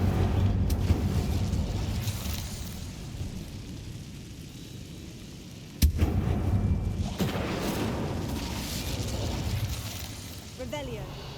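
Incendio fire spell cast in the video game Hogwarts Legacy, a deep rumbling roar of flames with a sharp crackling burst partway through, set against ongoing game ambience and faint voices.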